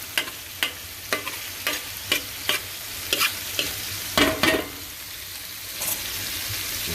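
Onions and turkey necks fry in a pan over an open fire, a soft sizzle broken by repeated scraping stirs that come as sharp bursts about every half second.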